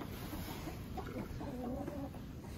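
Chickens cluck in short, faint bursts, partly buried under steady wind noise outdoors in Alaska.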